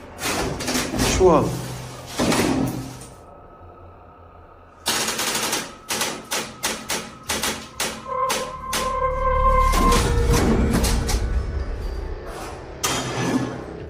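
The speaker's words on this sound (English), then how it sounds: "It shoves something in the empty hole where a doorknob should be, and soon it bursts the door open." A door is forced with something jammed into its empty doorknob hole and then bursts open, heard as loud banging, rattling and clattering impacts in quick bursts, then a sustained rumble and a final heavy thud.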